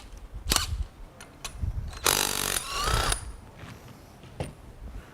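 Close metallic tool work removing a 3/4-10 bolt from a bike stub shaft assembly: scattered sharp clicks and knocks, with one longer whirring, grinding burst in the middle.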